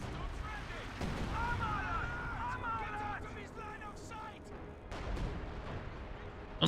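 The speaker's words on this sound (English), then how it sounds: "Priests are firing." Priest self-propelled artillery firing in a Company of Heroes 2 match on a forest map, distant booms and shell impacts rumbling beneath a continuous excited voice.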